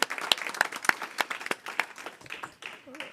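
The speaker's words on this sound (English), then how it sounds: "I know you want to clap, right?" A small group claps at a transit committee meeting, giving sparse, uneven handclaps close by that thin out over a few seconds, with a brief voice near the end.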